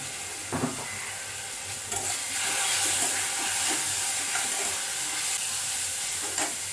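Vegetables for veg chow mein sizzle loudly and continuously in a hot pan just after soy sauce goes in, with occasional stirring scrapes over the steady hiss.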